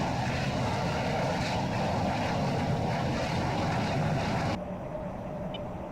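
F-16 Viper jet in the flight sim VTOL VR, a steady loud engine roar that holds throughout, then drops abruptly to a quieter, duller hum near the end.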